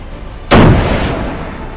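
A single loud tank cannon blast from the Arms Trade Tycoon Tanks video game hits sharply and then rolls off into a long, booming decay, with no voices over it.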